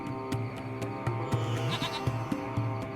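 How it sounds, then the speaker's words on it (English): A small goat in the video game Lost Horizon, hiding under a hut, bleats in a run of short, wavering cries over a steady ambient game background, fairly close and moderately loud, with no talking. "It's a small goat."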